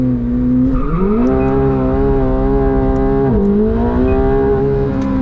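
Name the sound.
McLaren 750S engine revving through the gears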